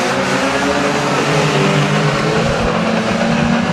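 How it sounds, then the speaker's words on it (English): V6 race cars racing at Mildenhall Stadium, a dense continuous engine roar with revving, loud and steady throughout without a break. "a load of them have got V6s, so they sound cool as well"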